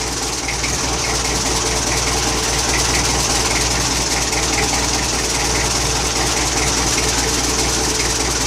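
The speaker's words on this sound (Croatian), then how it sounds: "Traktor nije palio skoro 3 mjeseca. Bez grijača smo palili" An IMT 560 tractor engine, just started without a heater after sitting unused for nearly three months, idles with a steady, heavy, low diesel rumble and a constant mechanical clatter throughout.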